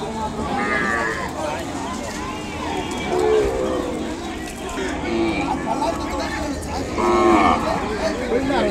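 A young pure Ongole calf, about three months old, moos several times at a busy cattle market, loud and close, with people talking and crowd babble underneath.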